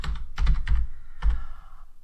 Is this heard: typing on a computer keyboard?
yes